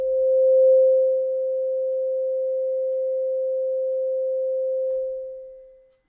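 A single steady synthesizer key tone, pure and sine-like, holds at an even level and then fades smoothly away over about a second as the key is released.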